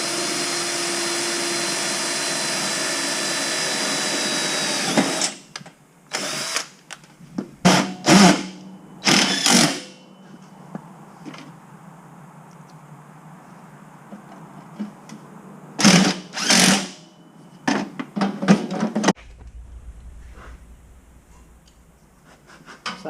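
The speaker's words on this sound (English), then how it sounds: "I'll just drill a hole through them, and then I'll come back and run the screw all the way through it." A power drill bores holes through metal firewood rack pieces. A steady machine whine runs for about five seconds, then comes several short, loud bursts of drilling separated by quieter handling noise, close up.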